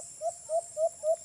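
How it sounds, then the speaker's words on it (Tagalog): A bird calls four times in a steady rhythm, soft hooting or cooing notes repeated at even intervals against a quiet background with a faint high hiss. "pakinggan nyo yung huni ni Supra dyan sa likod mga birds"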